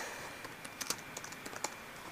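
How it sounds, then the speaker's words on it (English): Computer keyboard keys being struck during a game, a quick irregular run of sharp clicks and taps over a faint steady background hum. "just punch his keyboard right now"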